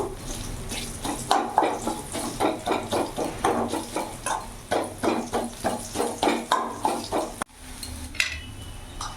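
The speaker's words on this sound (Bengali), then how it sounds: "রসুনটা একটু লাল লাল করে ভেজে নেব।" Whole garlic cloves fry in a wok for a bathua greens dish. A metal spatula scrapes and stirs in a steady rhythm of repeated strokes over a low sizzle, and the stirring stops near the end.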